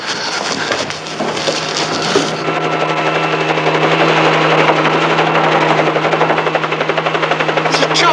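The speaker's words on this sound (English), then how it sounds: "There's a chopper. They followed you in a chopper." A helicopter passes close overhead in a 1970s San Francisco police drama, its rotor chopping in a rapid, steady beat under a loud, sustained engine whine that swells and holds for the whole stretch.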